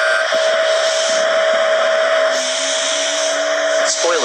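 Cabin of a Lion Air airliner during landing, a loud steady jet roar with a whining mechanical tone shifting as flaps extend, continuous throughout.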